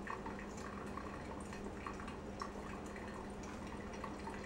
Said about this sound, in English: I typically like to have this first pour, this primary pour, done within about a minute of starting my brew.